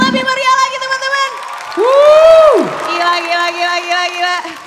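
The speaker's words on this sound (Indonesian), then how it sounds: "Tepuk tangan yang lebih meriah lagi teman-teman." An audience cheers and whoops at a live talk show event, with a voice calling out loudly over the crowd and a sustained shout rising in the middle.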